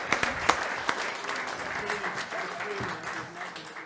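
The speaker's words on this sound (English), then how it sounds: "give Derek a round of applause" An audience at a talk event claps for Derek Warwick, with dense applause at the start that thins and fades over a few seconds while voices murmur underneath.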